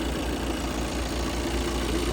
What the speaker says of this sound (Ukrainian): Двигун, мабуть, рівно, ніяких лишніх звуків немає у нас.